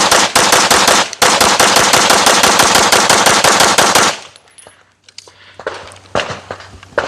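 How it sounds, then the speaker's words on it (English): A PSA Dagger pistol fires a rapid mag dump of about twenty loud, evenly spaced shots over four seconds, followed by quieter handling noises outdoors. "The only thing left to do is do a mag dump, see how she runs when you really push it to the limit."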